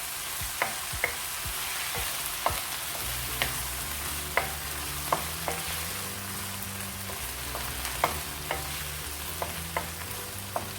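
Pasta gets mixed with pasta sauce in a pan over a high flame: repeated spoon scrapes and taps against the pan over a steady frying hiss, close, with a low hum underneath.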